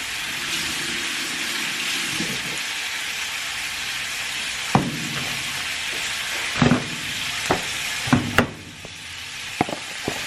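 Food frying in a pan: a steady hiss of sizzling runs throughout, broken by several sharp clinks and scrapes of a utensil, mostly in the second half.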